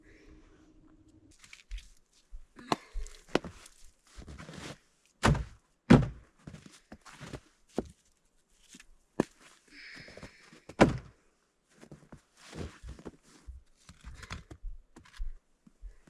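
Firewood rounds are split outdoors, each blow landing as a sharp, heavy thunk, spaced irregularly over several seconds with quieter knocks and shuffling between strikes.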